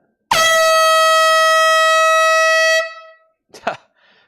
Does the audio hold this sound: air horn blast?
yes